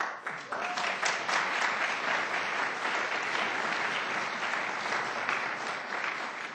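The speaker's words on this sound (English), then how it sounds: "I want us to applaud" An audience at a university talk on post-conflict democratic consolidation with Ellen Johnson Sirleaf breaks into sustained, loud applause, a dense wash of many hands clapping evenly for several seconds.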